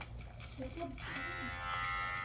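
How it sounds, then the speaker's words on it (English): A rechargeable electric pet hair shaver with a USB charging port runs with a steady motor buzz, close and continuous, strengthening and settling into an even hum in the second half, with some speech-like sounds early on. "then you have this one, which is like a shaver, and it does have a USB port right there if you want to charge it up"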